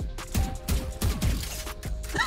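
Rapid gunfire from the tactical shooter Valorant, with several bursts of shots cracking close and loud in quick succession against game ambience.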